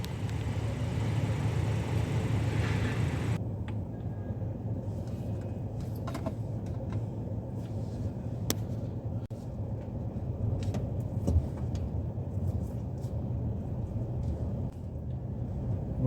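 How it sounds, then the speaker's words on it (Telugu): Cars and other road vehicles pull away together at a traffic signal on a city street in Hawalli, Kuwait, a steady low engine rumble of traffic that carries on unbroken, moderately loud and fairly close, with no talk over it. "వెళ్ళిపోయినాయి బండ్లు"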